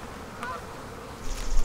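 Honey bees buzzing around an open hive during a pre-harvest inspection, a faint hum with a brief clear buzz as one flies past close by, then some handling noise at the end.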